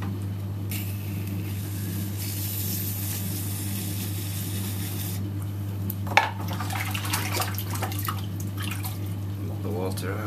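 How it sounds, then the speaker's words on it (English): A sponge dabs and squeezes water out of a tall flared clay vase on a pottery wheel, giving wet drips and soft squelches over a steady low motor hum, with a sharp knock partway through. "Mop the water out. I think I need a bigger sponge."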